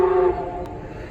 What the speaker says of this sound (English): Man, that train is amazing.